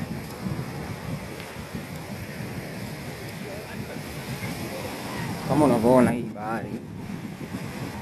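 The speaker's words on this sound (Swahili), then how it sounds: "Bahari ya Hindi ni kubwa." Indian Ocean waves wash onto a beach in a steady, broadband roar with wind buffeting the microphone, while a person speaks briefly near the end.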